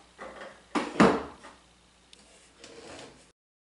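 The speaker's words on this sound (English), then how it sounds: "I'm going to take these clamps off." Woodworking clamps being taken off a freshly glued entry bench: a few loose wooden knocks and clunks, one louder thump in the middle, then softer sliding and rattling, close by with no talk.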